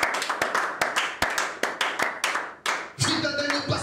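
A church congregation claps in praise of Jesus, with about a dozen sharp claps in a quick, fairly even rhythm close to the mic, followed by a short blur of applause and background noise.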